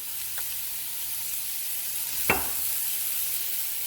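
Onions sizzle in olive oil in a pot for a Guinness stew, a steady close frying hiss with one sharp clack of a stirring utensil partway through.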